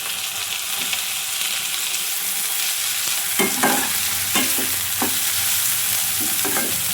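Tomatoes added to a hot pan of lightly browned ingredients for palak paneer sizzle steadily, with a few scraping stirs of a spoon against the pan, close and continuous with no talk.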